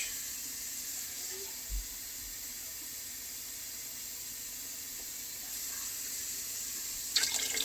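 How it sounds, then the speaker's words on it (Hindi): Water steadily pours into a cooking pot while preparing haleem, a continuous close hiss of running liquid with a couple of soft knocks, no voices. "6 छः गिलास पानी डाल के अब हम"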